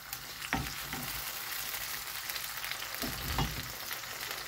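Tomatoes frying in hot oil over high heat for chicken karahi, a constant close sizzle with a few sharper stirring knocks, no talking.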